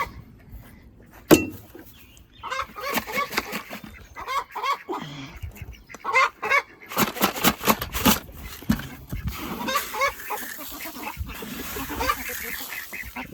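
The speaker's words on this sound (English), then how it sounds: "That one chicken is noisy." A chicken squawks and clucks in loud, irregular bursts, with quieter stretches between calls and some faint background noise.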